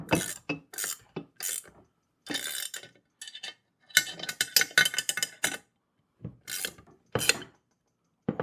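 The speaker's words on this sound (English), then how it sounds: "let me get another wrench so we can tighten it down a little bit better" Metal wrench working a 13 mm bolt on the frame of a heavy-duty four-wheel garden dump cart, heard as short bursts of ratcheting and scraping clicks separated by brief pauses, close and distinct.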